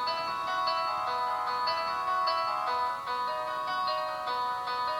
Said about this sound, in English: These are the newer ringtones that they have for the iPhone.